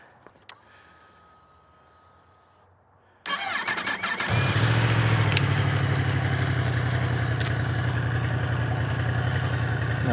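A 2025 Yamaha R1 sport motorcycle engine starts after a quiet stretch, catching with a sudden rise and settling into a loud, steady, close rumbling idle with no talk over it.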